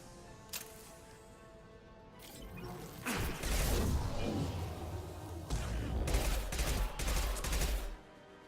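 Enemy gunfire in the sci-fi shooter Mass Effect 2 crackles in rapid bursts, a faint shot early, then heavy clustered volleys and impacts from about three seconds on, loud and close.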